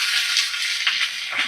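Cut raw tomatoes drop into a hot pan, setting off a steady bright hiss of sizzling oil with a brief soft thump partway through, close and unaccompanied by talk.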